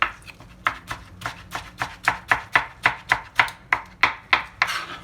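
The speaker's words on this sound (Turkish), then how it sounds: "Şöyle gördüğünüz gibi jülyen olacak şekilde domatesleri doğrayalım." A knife chops tomatoes into julienne strips on a board, a steady series of about fifteen crisp, close cuts in a quick, even rhythm, with no talking.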